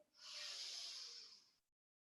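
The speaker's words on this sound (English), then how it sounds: "Breathing in" A single long, deep inhale lasting about a second and a half, airy and hissing, close to the microphone, steady and then fading to silence.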